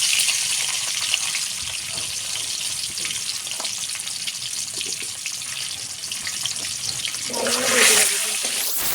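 Eggs sizzle steadily in a pan with oil, seasoned with a little turmeric and salt, a soft continuous frying hiss with a brief louder burst near the end and no talking.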